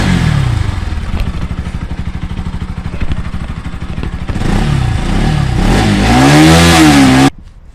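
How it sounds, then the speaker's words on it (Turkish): A nearby Bajaj Pulsar NS200 motorcycle idles with a rapid throbbing putter, then revs up loudly several times in rising and falling surges before cutting off abruptly. "Motosiklet sesi bu."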